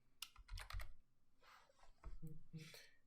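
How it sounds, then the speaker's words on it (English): Close, quiet clicking of computer keyboard keys in short irregular bursts as a name is typed out, with no talking. "So I'm going to type out my name."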